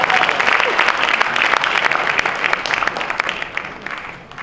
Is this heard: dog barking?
no